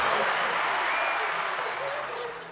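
A soundboard cheering effect gives a broad wash of crowd applause and cheers, loud at first and then slowly fading over a couple of seconds.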